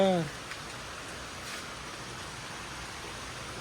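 Rain coming down in bursts gives a soft continuous patter, preceded by a brief voice at the start and then steady alone.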